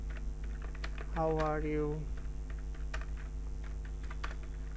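Typing on a computer keyboard makes a light, irregular patter of fast clicks that runs throughout, partly under a brief spoken phrase.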